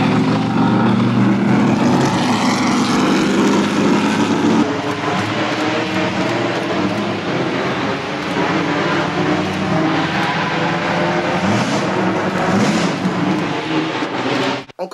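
A Lola T70 MK3B race car runs at a historic motoring event, its engine a loud, sustained roar that holds steady and then cuts off abruptly at the end.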